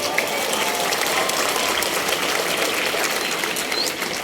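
Dense, steady applause fills a Hari Santri commemoration ceremony, a continuous wash of many hands clapping at even loudness throughout, with faint bird chirps above it and no speech.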